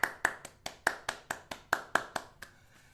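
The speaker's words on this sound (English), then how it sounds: "I see lots of clapping hands from everybody else" Hands clapping in a steady run of about a dozen sharp, evenly spaced claps at close range, with no voices.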